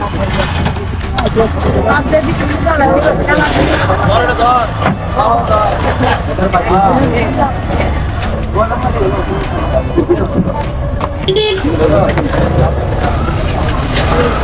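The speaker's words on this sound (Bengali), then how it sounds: "নদীর ওই পার থেকে একটা নৌকা চলে আসছে দেখেন" A loaded river ferry boat carrying motorbikes and passengers crosses the Someshwari River at Durgapur, Netrokona, its steady engine and water noise loud and continuous throughout, with voices talking over it.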